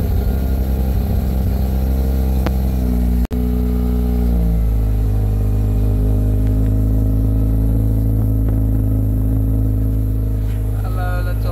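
A Mazda RX-8 rotary-engine car runs at a steady idle, a loud, continuous low rumble throughout with a brief sharp click partway through, alone without talk.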